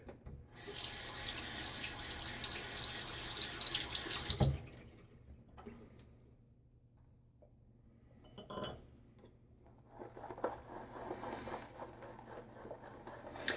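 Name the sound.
running tap water added to shaving soap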